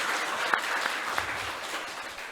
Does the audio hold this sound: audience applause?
yes